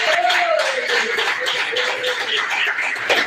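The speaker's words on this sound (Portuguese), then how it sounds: "Palmas, glória a Deus" Worshippers in a church congregation clap in a loud, rhythmic burst of many hands, while a raised voice carries over the clapping throughout.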